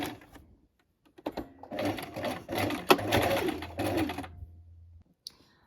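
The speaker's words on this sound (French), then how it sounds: "Donc la première étape du pli creux, vous allez coudre les deux crans ensemble." A domestic sewing machine stitches the two notches of a box pleat together on a blouse, running in bursts with a steady mechanical whir, close and fairly loud, with short pauses and handling noises between runs.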